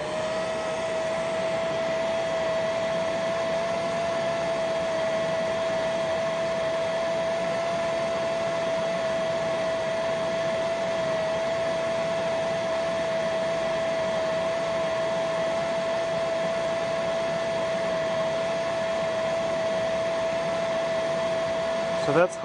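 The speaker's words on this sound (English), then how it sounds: "I'll turn this on and let's see what kind of numbers this rangehood gives us." A ROBAM A810 rangehood runs during an airflow test, a loud, steady rushing whoosh with a constant thin whine that holds unchanged throughout.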